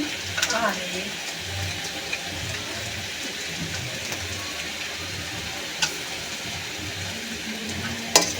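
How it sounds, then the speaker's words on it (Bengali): Onion paste, chopped onion and garlic fry in a pan with a low, steady sizzle and occasional spoon scrapes and clinks, close and moderately quiet, with a voice talking faintly at times. "পেঁয়াজ রসুন একসাথে ভেজে নেব"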